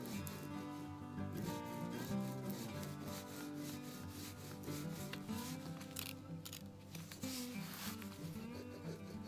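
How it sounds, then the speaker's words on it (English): A tool rubbed firmly back and forth over a plastic-backed transfer on a coaster gives a continuous, close, rhythmic scratchy rubbing that runs without pause throughout. "you're just going to rub back and forth"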